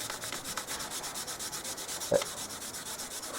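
1500-grit sandpaper rubs steadily back and forth across spray paint in quick, even strokes, close and quiet, with one slightly louder scrape near the end.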